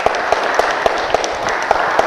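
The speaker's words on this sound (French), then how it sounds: "Si c'est le cas, applaudissez pour vous-même." A live studio audience claps in a quick, even rhythm at a French-language public question session, sharp hand claps repeating close together for a couple of seconds.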